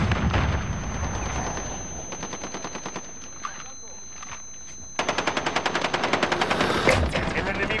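Rapid automatic gunfire fills a Call of Duty Modern Warfare match in long rhythmic bursts, loud and close, with a grenade-like boom among the shots.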